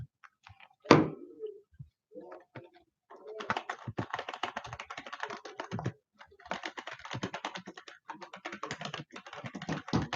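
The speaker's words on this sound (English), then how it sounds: "See, I can type." Keys clatter on a new computer keyboard in rapid bursts of close, light clicks, with a brief pause midway, after one louder thunk at the start.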